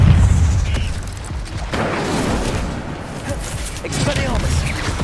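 A fiery Incendio spell cast in a Hogwarts video game erupts as a broad, booming burst that keeps crackling and rumbling throughout, with a voice shouting over the blasts.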